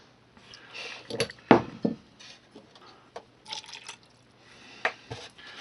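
Water is poured into a drinking cup in short, uneven bursts of splashing and trickling, with small clinks and pauses between pours, close up and fairly quiet, with no speech.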